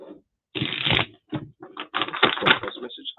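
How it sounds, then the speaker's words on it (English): Tarot cards being shuffled by hand in repeated bursts of dry riffling and slapping, close and fairly loud, with short pauses between the bursts. "I'll give you 2 more shuffles."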